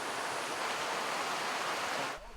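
A creek rushes steadily beside a lodge deck in Wyoming's Medicine Bow area, a dense, continuous broadband water roar close by that cuts off abruptly near the end.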